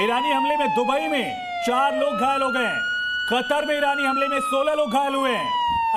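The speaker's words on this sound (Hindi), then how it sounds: "इजराइल में लगातार वहां पर सायरन बज रहे हैं।" War air-raid sirens wail across Israel as a steady, slowly falling tone that runs beneath continuous fast news-reader speech for the whole stretch.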